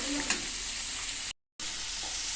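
Chopped onion, garlic and ginger go into a pan of popping mustard seeds for Kerala-style chicken curry. A loud, steady sizzle runs alongside the scrape of stirring, with a brief drop to silence partway through.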